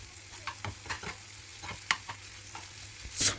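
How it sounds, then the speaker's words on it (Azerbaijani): Chopped vegetables and boiled beef being fried and stirred in a pot, soft sizzling under repeated scraping spoon strokes, close and fairly quiet, ending with a louder burst of sizzle. "bunları da biraz cüzi qızardıb qovururam."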